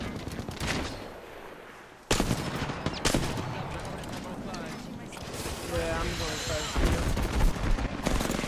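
Rapid gunfire bursts and sharp shots in an Apex Legends firefight, starting abruptly after a quieter stretch and growing dense and loud, with a voice in the mix.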